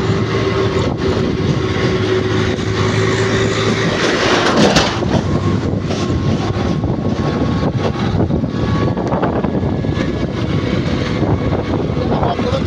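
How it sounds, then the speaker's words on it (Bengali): A motorbike rides slowly along a road on the way to the Agradwip Gopinath fair, its engine a steady loud drone with wind noise throughout, and a faint voice briefly underneath. "বাইকে আমি আস্তে আস্তে যাচ্ছি, সাথে থাকো।"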